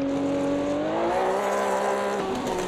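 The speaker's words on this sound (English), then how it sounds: "That's how easy it is to light the tyres up." Porsche 908-3 race car in the AMS2 racing game, its engine revving as the tyres spin, a steady loud harmonic drone with rising pitch and hissing wheelspin noise underneath, no talk.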